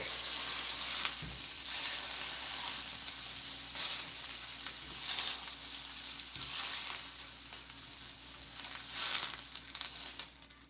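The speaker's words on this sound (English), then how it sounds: "They do sear pretty quick." Meat for Irish stew sears in a hot pan with a steady, loud sizzle and hiss throughout, broken by a few faint stirring scrapes and no talk.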